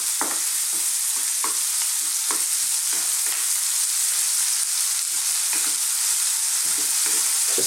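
Chickpeas and mushrooms fry hard in a pan over high heat, a steady loud sizzle broken by repeated scraping stirs and tosses, with no voices.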